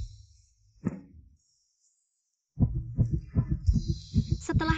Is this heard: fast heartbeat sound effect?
yes